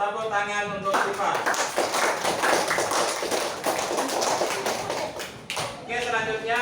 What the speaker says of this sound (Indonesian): Tepuk tangan untuk Siva.